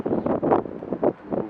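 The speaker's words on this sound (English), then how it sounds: "Of course, the wind's starting again. It's windy here." Outdoor wind buffeting a microphone in loud, uneven low gusts that come in several bursts over a moment and a half, with no voice present.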